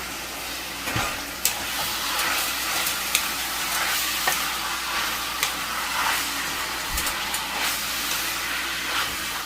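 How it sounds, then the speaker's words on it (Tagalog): Ground beef stirs and fries in a pan for pancit palabok, giving a steady soft sizzle with scattered scrapes and clinks from the stirring utensil, fairly quiet and close. "Sunod natin dito yung ground beef natin. Yan o. Mix lang natin."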